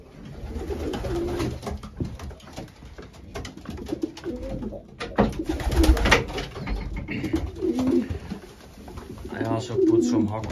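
Racing pigeons cooing in a loft with youngsters, repeated soft throaty coos close by, with a person talking over them and some shuffling.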